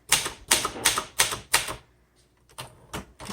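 A 1969 Royal Lark portable typewriter is typed on, with about five sharp, loud key strikes in a quick rhythm, a short pause, then a few lighter taps.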